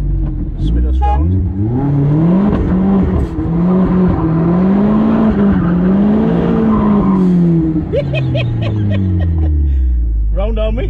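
Vauxhall VX220 Turbo track car spun round, loud engine revving with rising and falling pitch and tyres squealing and skidding close up, voices talking over it.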